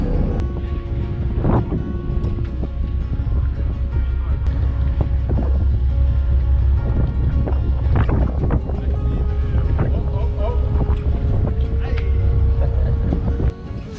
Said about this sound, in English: Last ferry of the day.